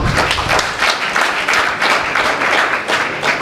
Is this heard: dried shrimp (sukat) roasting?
no